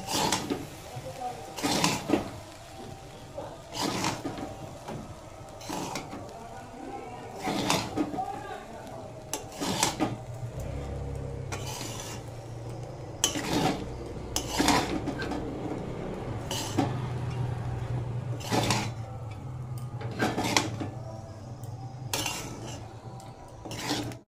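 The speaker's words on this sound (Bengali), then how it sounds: "একসঙ্গে ভালো করে মিশিয়ে নেব" Fried rice mixed with cardamom powder is stirred in a pan, metal utensil scraping and clinking against the pan in repeated strokes at a steady pace, with a low background hum throughout and no talking.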